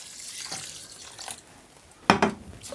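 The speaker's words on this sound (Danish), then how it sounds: "jeg hælder lige lidt vand over min ris her." Water poured over uncooked rice in a kitchen to rinse it gives brief, soft splashes and trickles, with a sharper pour near the end, heard up close with no talking.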